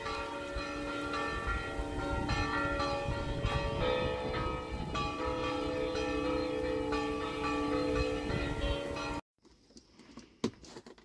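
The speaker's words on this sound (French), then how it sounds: "C'est pas du tout les mêmes cloches qu'en France." Church bells in Portugal ring steadily in a dense, overlapping peal for about nine seconds, then stop abruptly, leaving faint background noise.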